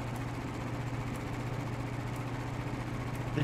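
A ship's engine runs in the video game Marauders, a steady, close, low mechanical drone with a constant hum and no break or voices.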